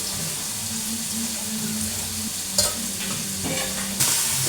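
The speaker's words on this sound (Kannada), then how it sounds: "ಈರುಳ್ಳಿ ಮೆಣಸಿನ್ಕಾಯಿ ಹಾಕಿದ್ವಿ, ಬೆಳ್ಳುಳ್ಳಿ ಹಾಕ್ತಾ ಇದ್ದೇವೆ. ಚೆನ್ನಾಗಿ ಫ್ರೈ ಮಾಡಬೇಕು ಇದನ್ನು." Onion, green chili and garlic frying in hot oil in a pan while a spoon stirs them, giving a steady close sizzle with scraping strokes and a couple of sharper clinks.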